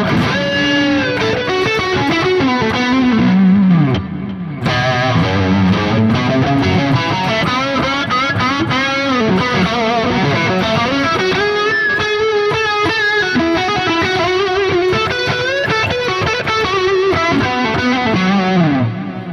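Electric guitar played through a Soldano SLO-100 amp plugin from Neural DSP, with full distortion and no overdrive pedal engaged: a dense, continuous run of saturated chords and lead lines, loud and alone.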